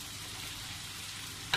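Frozen broccoli sizzles steadily in a hot pan as it is stirred, a continuous close frying hiss with a brief scrape near the end.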